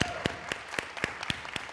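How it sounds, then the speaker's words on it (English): A small group at a community honoring event claps for a guest in a slow, even rhythm, about seven distinct claps spaced roughly a quarter second apart, close and clear. "can we give another round of applause for Dr."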